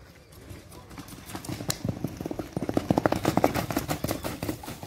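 Rapid hoofbeats of a crossbred chestnut horse clatter on hard ground, growing louder and quicker as the horse moves close by, with a brief voice in the background.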